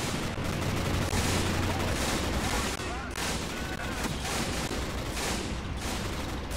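Machine gun fire in the war strategy video game Assault Squad 2, dense continuous rattling bursts with booming battle noise, loud and unbroken across the whole stretch.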